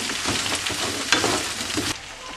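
Potatoes and artichokes sizzle loudly in a frying pan, with a steady close crackle broken by scraping stirring strokes that fade slightly near the end.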